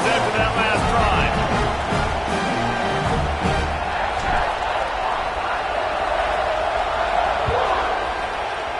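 A stadium crowd in a football video game during a kickoff, a broad roar and murmur that holds steady with scattered thumps, under a commentator's talk.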